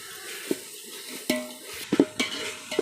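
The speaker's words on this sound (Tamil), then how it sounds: "இப்போ நல்லா வதங்கி வந்துடுச்சு" Onions with ginger garlic paste being sautéed in a pan for chicken biryani, with a soft steady sizzle under a few sharp spoon-stirring scrapes and clinks against the pot, close and moderately quiet.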